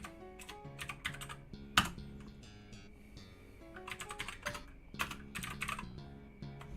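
Rapid typing on a computer keyboard clatters in uneven bursts of close keystrokes with brief pauses, one sharper clack standing out, and a faint tonal hum underneath.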